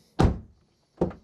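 Two solid thunks of a car door shutting, close by, the second about a second after the first.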